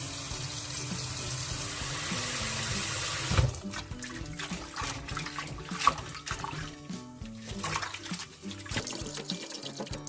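Shepherd's purse greens swished and rinsed in water, beginning with a steady rush of running tap water that cuts off, then uneven splashing and sloshing as the leaves are handled, close by and without speech.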